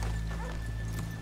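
Horse hooves clip-clop at a walking pace in Red Dead Redemption 2, a rapid run of close, distinct hoofbeats over a low background hum, with a brief whinny-like note.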